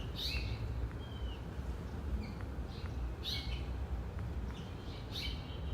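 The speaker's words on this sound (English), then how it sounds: "keep your ear out for the sweet sounds of the house finch" House finch singing outdoors, a series of short bright chirps and warbled notes in irregular bursts, moderately near over a steady low background rumble.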